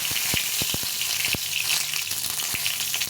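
Panch phoron and dried red chillies dropped into hot oil, a continuous close hiss of sizzling punctuated by sharp crackles and pops as the seeds spit, with no talking.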